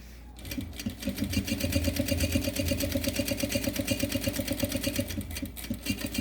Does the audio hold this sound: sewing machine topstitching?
yes